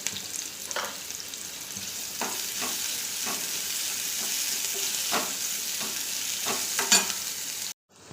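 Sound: thinly sliced onions frying in hot oil in a kadhai

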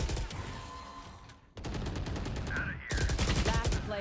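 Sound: gunfire in a video game

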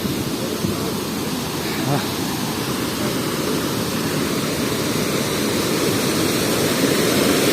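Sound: Kernek waterfall in Malatya

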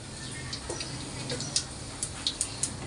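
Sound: cumin seeds frying in hot oil

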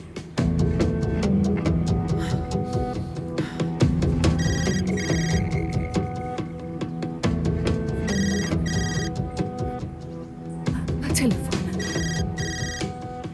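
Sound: phone ringtone

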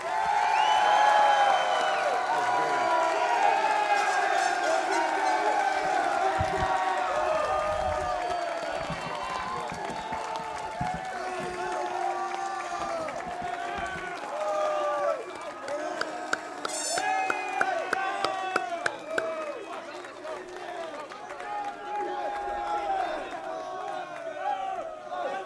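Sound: applause for the graduating class at a commencement ceremony

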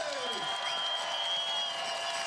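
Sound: applause for the bobsleigh winners

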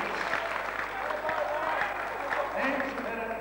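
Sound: kickboxing crowd applause

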